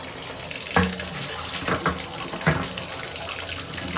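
Running tap water gushes steadily into a bathtub while hand-dyed yarn is rinsed, with a few splashy sloshes as the wet yarn is moved about, close and continuous with no voices.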